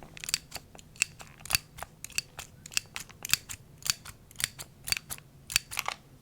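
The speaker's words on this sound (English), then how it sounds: "Focus on how many times you hear the click." A small handheld device clicks repeatedly for counting during a quiet close-up exam, about two dozen sharp dry clicks in an irregular rhythm, very close and crisp over near silence.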